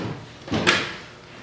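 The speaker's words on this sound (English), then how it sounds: "We just opened the door." A car door on a 1974 Triumph TR6 under restoration swings open with a single close, short latch click and creak, followed by quiet room tone.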